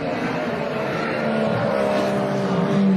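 Formula 1 race cars at the 2014 Austrian Grand Prix, with a steady loud engine roar holding throughout and a rising whine near the end.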